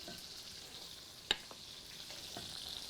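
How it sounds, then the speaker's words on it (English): Pork tenderloin sears steadily in a pan, a soft, even sizzle with a faint crackle and one sharp pop partway through, heard alone at low level. "So this is almost finished searing."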